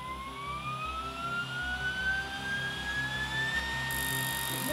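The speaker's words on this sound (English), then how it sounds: "I just want to fire this thing up and make sure that everything's working the way it's supposed to." A homemade electric jet engine spools up with a steady, rising high-pitched whine over a rumbling drone, building in pitch throughout with no talking.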